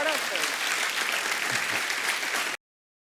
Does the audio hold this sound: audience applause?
yes